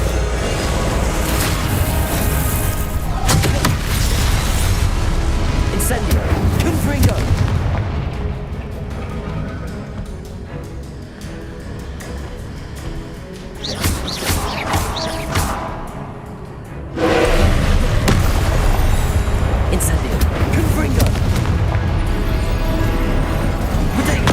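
Hogwarts Legacy combat in which Confringo and Incendio spell blasts crash out as loud, dense booming bursts, almost continuous. There is a quieter stretch in the middle before the heavy blasts surge back in.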